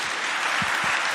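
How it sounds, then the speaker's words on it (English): Sustained applause from a conference audience at a global health security closing ceremony, a steady dense wash of clapping filling the whole moment without pause. "let's offer another round of applause to our panelists, please"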